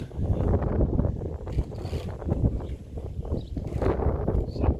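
Strong gusting wind buffets the microphone in a zucchini garden, loud rumbling roars rising and falling throughout, with no voices.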